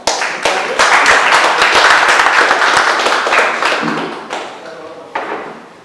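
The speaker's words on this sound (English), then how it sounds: "So can we all give him a round of applause?" An audience at a startup event breaks into applause, a loud burst of clapping with sharp individual claps that swells, then thins out toward the end, with a voice briefly heard alongside.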